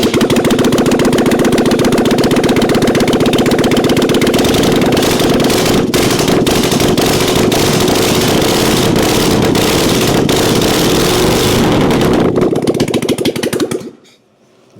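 A 1997 Harley Springer Softail engine runs loud and close after a carburetor repair, a rough, rapid lumpy idle that holds for about thirteen seconds and then cuts off, leaving quiet.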